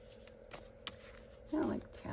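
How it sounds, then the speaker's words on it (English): Bridge or tally cards handled while sorting paper scraps, with soft paper flicks and a louder rustling riffle near the end, close and quiet, with a person murmuring faintly in the background. "I think these are like bridge cards"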